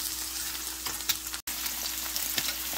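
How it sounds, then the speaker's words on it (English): Eggs fry in a pan with butter, a continuous crackling sizzle, close and steady, with a few faint utensil clicks and a brief dropout midway, and no talking. "And there's Wanda's eggs over here."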